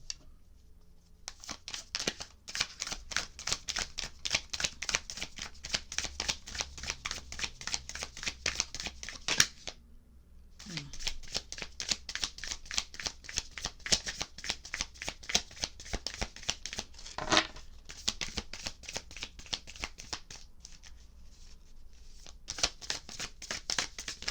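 Tarot cards shuffled in dense, rapid riffling bursts, close and crisp, with a short pause near the middle before the shuffling resumes.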